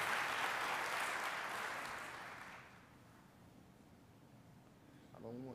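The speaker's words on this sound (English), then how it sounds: "for a hand clap of praise" A church congregation gives a hand clap of praise, a dense burst of clapping that fades away over a few seconds, leaving quiet room tone before a voice begins to speak.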